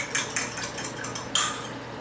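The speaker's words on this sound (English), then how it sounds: "give it a good stir." A spoon clinks and scrapes rhythmically against a bowl while stirring oil, buttermilk, vanilla and whole eggs for chocolate cake, several quick strokes close up with a brief pause.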